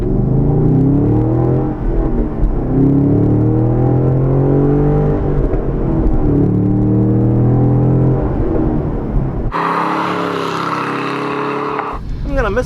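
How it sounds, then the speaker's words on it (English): A 2016 Holden SS-V Redline V8 with a manual gearbox pulls away from a stoplight, its loud engine rumbling and climbing in pitch through successive revs before a gear change, then easing off near the end. "When the clutch drops, the bullshit stops."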